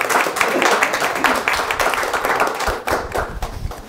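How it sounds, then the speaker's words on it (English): An audience claps at a monthly academic and community talk series event, a lively, uneven burst of many hands with individual sharp claps standing out, loud and close, with some murmuring mixed in. "I'm just going to ask that we give them a round of applause."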